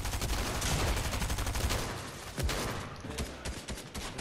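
Gunfire in an online shooter video game: rapid, dense volleys of shots that roll on continuously, loud and busy throughout, thinning slightly near the end.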